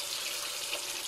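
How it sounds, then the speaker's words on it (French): A kitchen tap running into the sink, a steady broad rush of water heard close and alone, without any voices. "Donc j'ai fait couler mon robinet."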